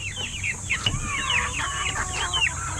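One-month-old chickens clucking and chirping continuously at close range, a busy overlapping flock chatter without talk.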